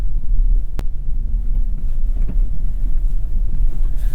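A 2021 Chevy Colorado ZR2 in two-wheel drive easing off-road over a big drop, a heavy low engine rumble with wind buffeting the microphone and a single sharp knock partway through.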